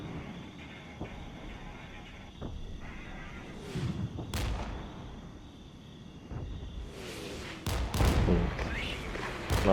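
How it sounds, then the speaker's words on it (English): Mortar fire in the wargame Regiments: a handful of deep, distant booms land a few seconds apart over a steady battlefield rumble, with a cluster of sharper blasts near the end. "Nasty mortars."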